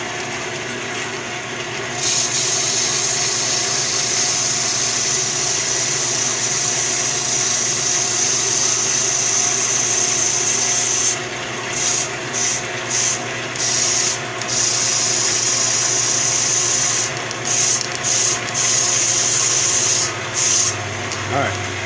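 Sandpaper rubs back and forth over a premade EVA foam grip in a long, continuous close-up scrape, with brief pauses near the end as the strokes shift.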